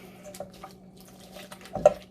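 Liquid poured slowly into a cast iron Dutch oven of gumbo gives faint, scattered drips and small splashes, with one sharper splash near the end, all over a steady low hum and no talking.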